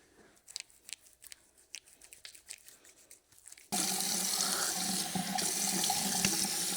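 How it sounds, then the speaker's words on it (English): Soft handling sounds are followed by tap water gushing loudly and steadily into a sink while a face is washed. The flow holds constant to the end. "so let's wash our face"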